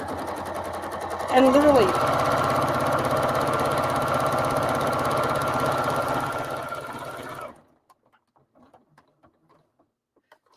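A sewing machine runs a steady fast stitch through quilt fabric for about six seconds and then stops, with a brief voice over the start.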